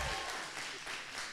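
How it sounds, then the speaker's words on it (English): Brief burst of crowd applause at a student union election results event, a short dense patter of many hands clapping. "another round of applause for Elgin there"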